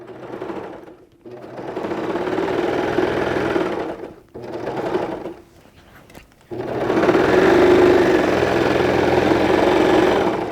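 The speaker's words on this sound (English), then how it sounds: "Just let it go off. That's the joy of a serger." A serger sewing machine stitches fabric for scrub caps in steady, close, loud whirring runs, broken by short pauses before a longer final burst; no talking.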